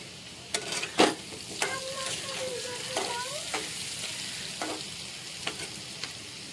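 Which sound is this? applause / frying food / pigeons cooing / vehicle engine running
frying food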